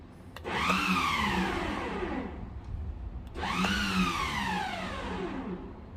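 A Lewmar bow thruster on a boat runs in two short bursts, each a whining electric motor surge that rises and falls in pitch, moderately loud and close, with a brief pause between them.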